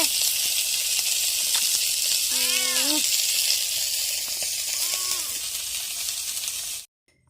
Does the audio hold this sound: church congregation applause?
no